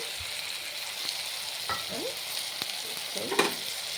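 Brinjal, beans and flat beans fry in a pan with a steady, close sizzling hiss, broken by a few soft stirring scrapes and clicks.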